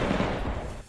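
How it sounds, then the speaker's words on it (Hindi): Gunfire in street fighting in a Ukrainian city, a dense, loud rattle of shots blending into a continuous roar before trailing off. "वहां शहर के भीतर हर तरफ बमों के धमाके और गोलियों की तड़तड़ाहट सुनाई दी।"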